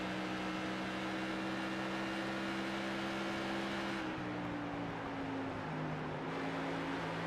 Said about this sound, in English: As I heard a little bit of tire squealing, that is Murphy falling away from Carpenter